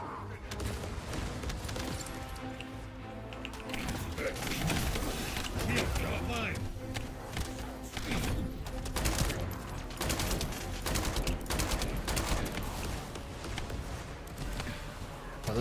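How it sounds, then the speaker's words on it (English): Continuous rumbling blasts and rapid gunfire-like bursts from the video game The First Descendant play on and on, with a voice talking faintly underneath. "Oh, those explosions appear so late."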